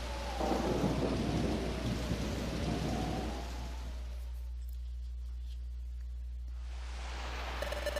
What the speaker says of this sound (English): It sounds like a storm's coming.